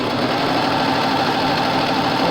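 A serger sews knit fabric to woven stretch cotton sateen with a steady, close, loud mechanical whir and rapid stitching chatter running without a break.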